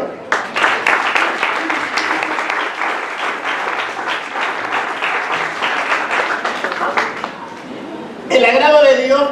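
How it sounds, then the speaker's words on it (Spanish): Church congregation clapping together in a sustained burst of applause, fairly close and even, fading out before a voice begins speaking at the end. "Dale palmas al Señor."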